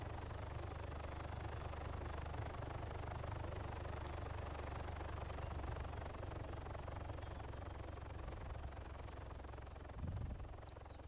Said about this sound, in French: l'hélicoptère qui se passe si bas